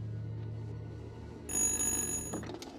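Ghost telephone ringing in the horror video game Little Hope, an electronic bell trill starting midway over a low droning ambience, fairly quiet and ringing alone.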